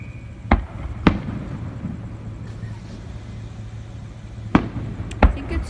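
Several sharp fireworks bangs from a Fourth of July show in Palm Springs, spaced irregularly with a pair early and a cluster near the end, over a low continuous hum of outdoor ambience.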